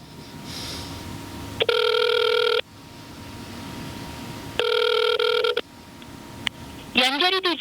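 An outgoing telephone call rings back twice in long electronic bursts separated by pauses, loud and close, followed by a short warbling tone near the end.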